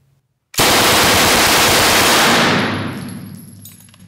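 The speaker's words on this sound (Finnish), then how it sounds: "Otetaan varmistin pois päältä ja ammutaan vähän tuohon taulun" A Sten submachine gun fires one continuous full-auto burst at a target, loud and close, then the reverberating echo trails away as the magazine runs empty.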